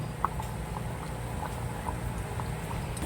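A pot of Filipino ginataang kalabasa with shrimp, a coconut-milk squash stew, bubbles steadily at a low simmer, soft popping and gurgling with a faint background hum, no voices.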